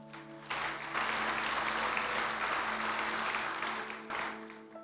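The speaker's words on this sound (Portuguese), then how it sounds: "Dá uma salva de palmas para eles aí." An audience in a church seminar hall breaks into sustained applause. The clapping is dense and loud and lasts several seconds, then drops away briefly before picking up again.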